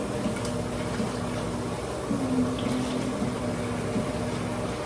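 Water running steadily while a face mask is rinsed off at a sink, a constant soft splashing flow with faint tonal hum underneath, nearby and moderately quiet.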